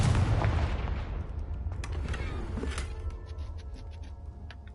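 Confringo fire spell going off in the video game Hogwarts Legacy: a heavy explosive boom that rumbles and slowly decays over several seconds, with a few crackling debris hits afterward.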